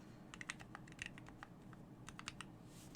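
Quick, irregular key clicks from a rebuilt KBDPad keyboard patter in a steady stream. They are soft and fairly close against a low background hum, with no voices.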